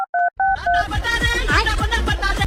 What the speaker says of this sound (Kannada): ತಾಳ ಅವ್ನಿಗೊಂದು ಫೋನ್ ಹಾಕೋಣ